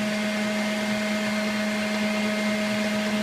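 An electric mixer whips cream into homemade butter, giving a steady, loud motor whine with a constant pitched hum and no break across the clip.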